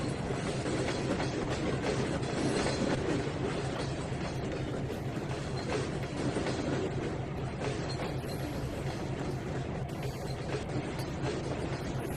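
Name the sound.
train passing in Trainz 2019 video game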